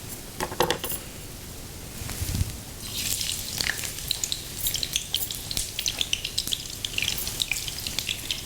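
Chopped onion and garlic sizzle and crackle in hot oil, joined by clinking and stirring scrapes of a utensil against the pan, close and steady, with no voices.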